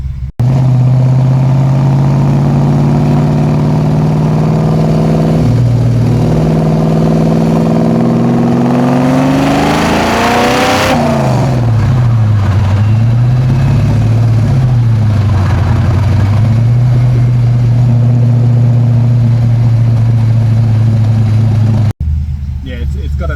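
Stroked and cammed Ford XA GT Falcon V8 idling loud and close with a lumpy, choppy rumble, briefly revving midway before settling back to its uneven idle, with voices talking over it.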